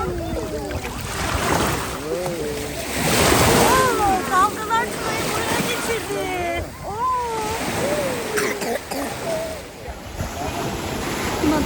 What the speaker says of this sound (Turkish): Ay şuna bakın dalgalara bakın.